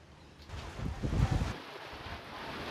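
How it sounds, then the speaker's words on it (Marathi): Strong gusting storm wind roars during an unseasonal storm in the Badlapur and Kalyan area, with winds near 107 km/h. A low, rumbling rush builds to a heavier gust midway, then eases into a steady blow with no voices. "बदलापूर आणि कल्याण भागात अत्यंत वेगाने सध्या वारे वाहतायत"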